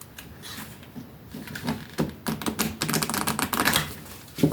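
Large oracle cards shuffled by hand, a run of quick crisp riffling and flapping card clicks that builds from soft to denser bursts, close and alone with no talking.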